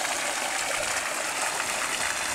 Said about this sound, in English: So, releasing water.